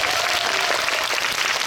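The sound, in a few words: audience applauding at film talk event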